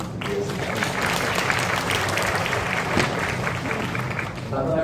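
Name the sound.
audience applause for the principal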